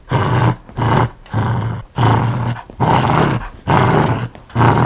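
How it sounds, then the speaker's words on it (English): A dog growls and barks aggressively in repeated loud bursts, each about half a second long, with short gaps between them, close to the listener and with no one talking. "He then started to growl and bark at me."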